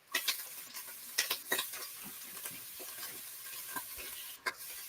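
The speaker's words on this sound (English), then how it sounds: "Trying to break up the sausage." Sausage being broken up in a pan while it cooks, giving soft scraping and stirring clicks over a steady low sizzle, with a few sharper taps of a utensil against the pan and no talking.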